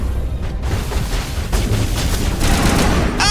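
Loud gunfire and impacts in the video game Mass Effect Legendary Edition form a dense battle din of booming shots, capped by a sharp, rattling burst at the very end.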